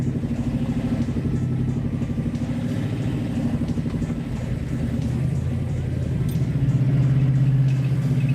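A Challenger 440 motorcycle engine runs steadily while being ridden, a loud, continuous low rumble with a throbbing vibration that swells slightly near the end, with no talk over it.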